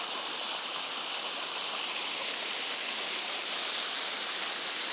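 Waterfall and stream in the Singapore National Orchid Garden, a dense, steady rush of falling water that holds evenly loud throughout with no voices over it.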